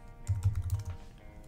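A name gets typed on a computer keyboard in a quick burst of about six close, crisp keystrokes, followed by a quieter pause; no one speaks.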